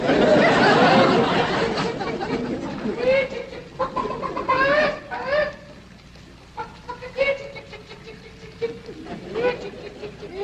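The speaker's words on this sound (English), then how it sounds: "Jethro, go on out there and catch us a chicken." Chickens cluck and chirp in brief bursts on a rural estate, mixed with speech at the start and intermittent clucking afterward, moderately near and fairly faint.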